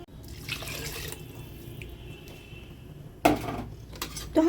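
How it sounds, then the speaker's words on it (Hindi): Water poured from a tap-like stream into a cooking pot of pea pulao with whole spices, a steady splashing run in the opening second, then quieter kitchen background before a louder splash and clatter near the end. "और अब हम इसमें पानी और डाल देंगे।"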